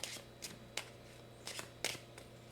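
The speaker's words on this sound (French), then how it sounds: "je vais aller chercher une carte de Lenormand" Lenormand cards being shuffled and drawn from a deck, giving a few soft, brief papery riffles at uneven intervals, faint and close in a quiet room.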